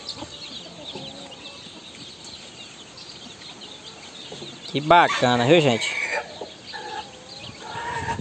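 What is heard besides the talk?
free-range chicks clucking and scratching in a pen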